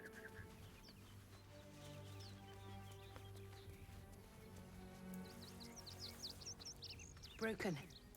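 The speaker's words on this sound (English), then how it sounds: "I love how the bird noises are louder than everything around here." Birds chirp in short high bursts from an outdoor scene in the video game Baldur's Gate 3, growing busier toward the end over a steady ambient game bed, with a voice talking throughout.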